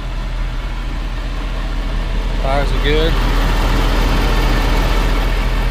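A 2015 Ford F550 cab-chassis flatbed truck with a 6.7L V8 diesel idles in a steady, low, rumbling drone throughout, while someone talks briefly over it.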